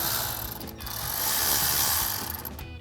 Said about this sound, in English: So grab a 10mm socket to remove that.